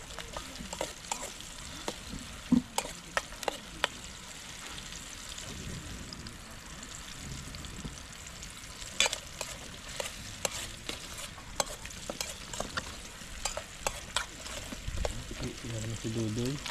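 Onions sizzle steadily as they fry in a casserole pan, with frequent scraping and clinking of stirring against the metal throughout. A few quiet voices can be heard in the background.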